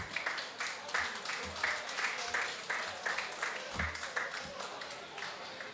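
An audience claps steadily through a school accordion concert, a broad sustained patter of many hands with a few louder close claps near the front, sounding alone without speech.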